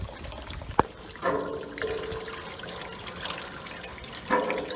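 Maple sap flowing between evaporator pans as the pans are flushed one into the next during syrup season: a steady low trickle and gurgle, broken by a sharp knock and a few short clunks.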